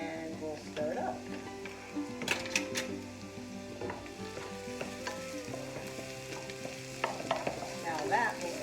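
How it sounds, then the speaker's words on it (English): Soup ingredients, including oregano, being stirred in a pot, giving a steady scraping and swishing under a soft background sizzle, with occasional clinks of the utensil against the pot. "Stir it up."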